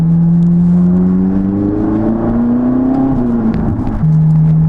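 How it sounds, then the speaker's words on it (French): A Ferrari 458 Italia V8 engine with a full straight-pipe exhaust hums in a high, smooth drone, its pitch climbing gradually then dipping and settling back, loud and close with no talking. "le son typique de Ferrari il est très rock en bas et très aigu en haut"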